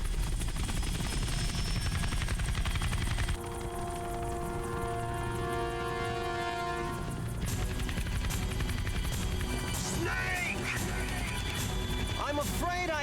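A helicopter in the video game Metal Gear Solid: The Twin Snakes keeps up a loud, constant rotor thrum and engine roar throughout, overlaid by tonal game music, metallic clanks and crashes, and bursts of in-game voices.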